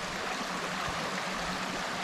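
Water rushing steadily at an Appalachian Trail stream crossing, a continuous close broadband flow with no voices.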